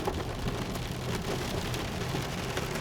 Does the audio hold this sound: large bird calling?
no